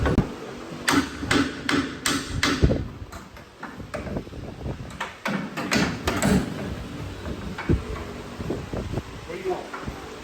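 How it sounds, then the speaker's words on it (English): Metal hammer strikes against the lower control arm of a Dodge Ram 1500 during suspension work, a run of sharp separate knocks in irregular rhythm, close and fairly loud, with people talking among the blows. "then we just hit it with hammer"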